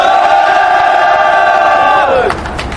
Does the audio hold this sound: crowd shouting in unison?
yes